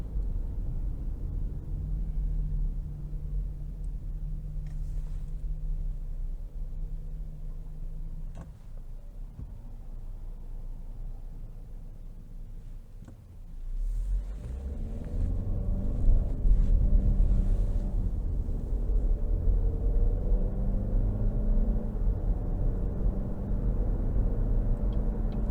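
2023 GMC Terrain Denali AWD with a 1.5-liter turbo engine under light acceleration, heard from inside the cabin as a low, steady drone with road rumble, the engine note rising gently partway through.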